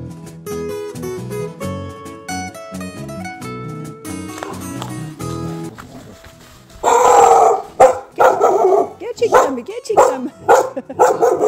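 Music plays for the first several seconds, then a dog barks loudly and close by in a rapid series of sharp barks and yips with short gaps, continuing to the end.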